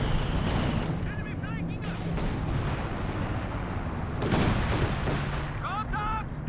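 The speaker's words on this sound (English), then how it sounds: "Artillery cover still going though." An artillery barrage in Company of Heroes 2 during a 2v2 match, repeated heavy booms and rumbling impacts over constant battle noise, while a caster talks throughout.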